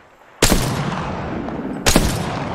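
Two loud, close bursts of gunfire in the Apex Legends video game, about a second and a half apart, each leaving a sustained noisy tail.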